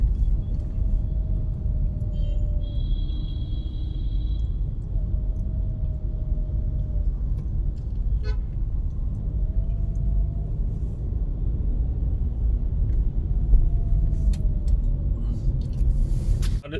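Continuous road traffic rumbles along a Delhi highway near the airport, a steady, fairly loud wash of passing vehicles with faint tonal engine whines drifting over it.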